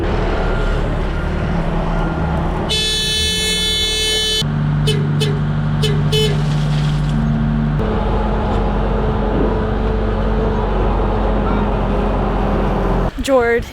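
A machine moving gravel on a DIY home-build excavation site runs with a steady low engine drone throughout, joined midway by bursts of tonal whining and beeping, with a brief louder surge near the end.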